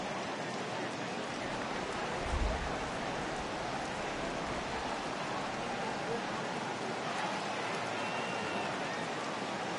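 Steady rain pouring over a ballpark during a Phillies at Braves baseball game, a constant broadband hiss with one low thump, under faint commentary.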